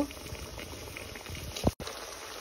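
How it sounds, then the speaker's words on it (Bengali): Fresh pangash fish from a village pond simmers in a spice masala, a soft continuous bubbling with one sharper stir or clack near the end, close and quiet. "মশলার মধ্যে মাছগুলোকে কিছুক্ষণ কষিয়ে নিব।"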